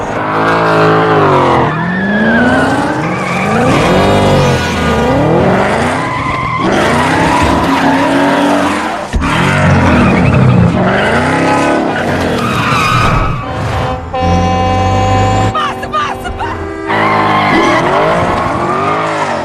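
Tires squeal and skid repeatedly as a car is driven recklessly in a Need for Speed film scene, loud engine revving under sustained high-pitched screeches that rise and fall across the stretch.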